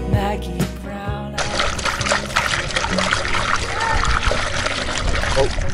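Water pouring and trickling aboard a sailboat, a continuous close splashing dribble that starts after a brief moment of lower sound and keeps running steadily to the end.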